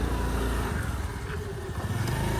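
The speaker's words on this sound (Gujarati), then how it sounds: "ચલો, પરેશને ફર્સ્ટ ટાઈમ આજે એક્ટિવાની રાઈડ કરાવે છે અહીંયાની." A Honda Activa scooter rides along with a steady, unbroken engine drone and road rumble, close and fairly loud throughout.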